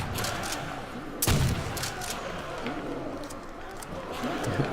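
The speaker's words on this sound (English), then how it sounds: "I am really impressed with the trench gun's fire rate in this game" Trench gun blasts in Call of Duty Zombies (Nacht der Untoten map) against a steady, noisy game soundscape, with one loud close shot standing out and fainter reports around it.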